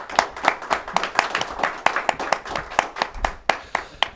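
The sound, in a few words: round of applause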